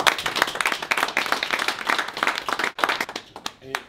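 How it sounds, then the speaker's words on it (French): Audience applause at a London gathering of Congolese MLC/UK supporters, dense clapping from a crowd filling the room, mixed with voices, tapering off near the end. "mais que je demande d'applaudir."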